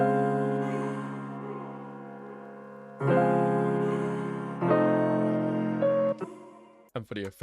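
Vocal sample from Splice opening a loop intro, heard as sustained sung tones drenched in reverb and ambience, the phrases shifting pitch in long held notes before a choppy, stuttering ending; close and smooth, no other talk.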